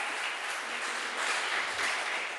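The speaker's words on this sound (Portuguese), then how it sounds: "Quero que agora vocês dêem aquela salva de palmas para o Senhor Jesus." A church congregation at an evangelical service gives a round of applause, a continuous dense wash of clapping from a large crowd, fairly loud and unbroken.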